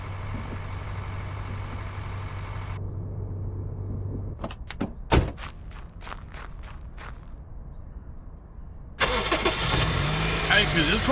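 A car engine starts in Car Dealer Simulator, a sputtering crank with several short bursts, followed later by a loud, steady engine roar. A steady hum comes first, and no one speaks.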